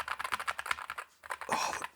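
Fast typing on a NuPhy Air60 V2 low-profile mechanical keyboard with linear switches, a close, dense run of crisp keystrokes with a brief pause before a final flurry.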